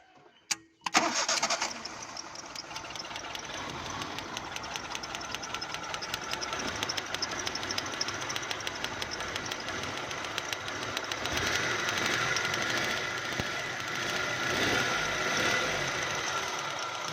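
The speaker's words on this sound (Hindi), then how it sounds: "सबसे पहले गाड़ी को स्टार्ट कर चेक करेंगे। स्टार्ट करो गाड़ी।" A car engine with a misfire from a broken spark plug wire cranks and catches, then idles with an uneven, knocking, ticking rhythm at close range for a long stretch, without talk.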